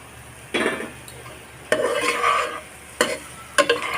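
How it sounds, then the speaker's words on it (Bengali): A spoon scrapes and stirs fried eggs with spices in a frying pan, making four separate bursts of clattering scrapes against quiet background hiss, with no talking. "এখন দিয়ে দেবো ভেজে রাখা ডিমগুলো"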